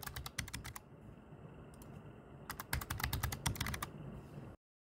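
Fingers tap a password on a computer keyboard in quick bursts of crisp, close keystrokes, separated by short pauses, before the sound cuts off abruptly.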